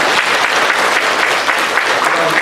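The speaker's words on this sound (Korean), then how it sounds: "다시 한번 큰 박수로 환영하겠습니다." A church congregation bursts into loud, dense clapping of welcome, a steady crowd applause sustained evenly for a couple of seconds with no talk over it.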